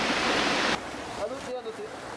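A very small trout stream flows with a rushing, gurgling wash, loud at first and then cut to a quieter trickle with faint water bubbling.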